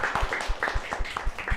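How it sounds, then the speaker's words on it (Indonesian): Audience at a live show clapping, a brief burst of quick, uneven handclaps packed close together, moderately loud and without talk. "tepuk tangan untuk kalian semua yang benar"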